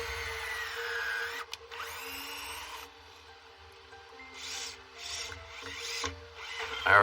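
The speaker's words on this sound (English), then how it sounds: "Now I'm going to drill a hole, put in another screw." A power drill whirs in several short bursts with pauses between, fairly close, with a scraping, rasping texture as it drills a hole and drives a screw during house renovation work.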